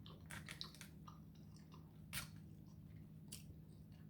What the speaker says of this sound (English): A delicious bite.